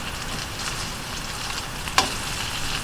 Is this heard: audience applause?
no